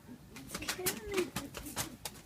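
Pigeon cooing during a bird fight outdoors, soft throaty coos mixed with scuffling and flapping bursts while a person talks over it.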